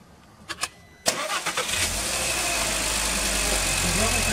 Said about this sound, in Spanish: vamos a echar a andar el auto.